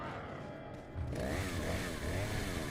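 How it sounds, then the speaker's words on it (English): A chainsaw revs in Resident Evil 4, starting faint and then jumping to a louder, wavering engine drone that rises and falls for the rest of the clip. "I believe there's a chainsaw lady outside"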